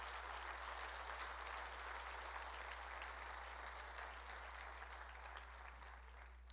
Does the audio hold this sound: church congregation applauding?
yes